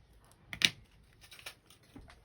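Scissors cutting a paper bag to size for a journal, a few brief crisp snips with one sharper cut near the start, close up and quiet, with no talking.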